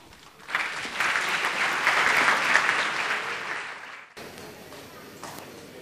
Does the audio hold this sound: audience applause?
yes